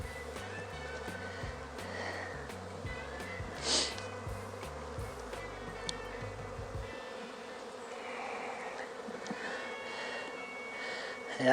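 Honeybees hum and buzz around an open hive during a spring inspection, a steady close drone with individual bees passing near, a low rhythmic mechanical pulse in the first half and faint talk in the background.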